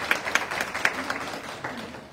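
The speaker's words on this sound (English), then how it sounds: "let's put a round of applause" A small audience at a school board community meeting claps for a student being recognized, giving a brief, fairly faint round of scattered individual claps.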